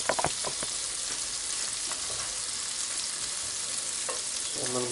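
Squid sizzles and crackles steadily in hot olive oil, a dense, continuous frying hiss with a few sharper pops, close and fairly quiet.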